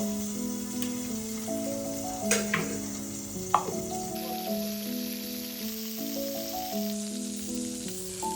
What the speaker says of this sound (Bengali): এখানে পটলগুলো আমার প্রায় ভাজা হয়ে গেছে, একটু লাল লাল করে ভেজে নিব